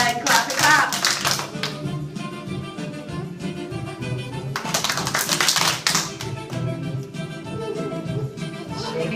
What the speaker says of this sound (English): Clap it, clap.